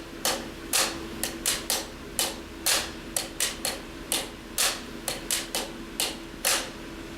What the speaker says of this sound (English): play your accented hit and then play a ghost note before the next downbeat